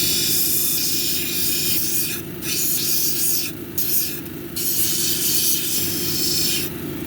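A lapidary grinding wheel at 220 grit polishes a picture jasper cabochon, giving a steady, loud wet hiss and spray with a low motor hum underneath, broken by a few brief dips as the stone is lifted off the wheel.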